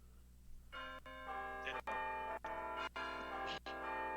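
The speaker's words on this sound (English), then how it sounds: "there were bells going off in my ear" Bell tones ring out in a steady sequence of sustained chimes, each strike cut by a short gap, loud and close with no talk over them.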